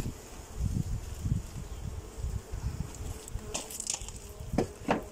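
Honeybees from a split hive buzz steadily as they are gently knocked from a nuc box into a full brood box, a dense close drone with soft thumps and rustling near the end.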